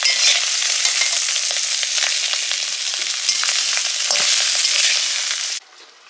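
Small mourala fish frying in mustard oil: a dense, close crackling sizzle with scraping stir noises, steady throughout before dropping sharply to quiet at the end, with no voices.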